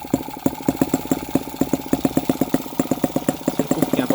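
Tiny four-stroke model engine, built for torque with a heavy flywheel, idling at low rpm with a steady rapid chugging pulse, close and fairly loud, alone with no talk.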